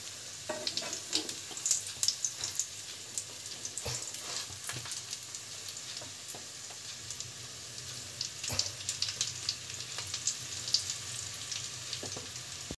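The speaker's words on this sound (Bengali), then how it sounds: "এই যে সব হচ্ছে, ভাজা চলছে এখনো" Vetki fish kobiraji frying in hot oil, a steady close sizzle with crackling pops and occasional clatter from stirring, no talk.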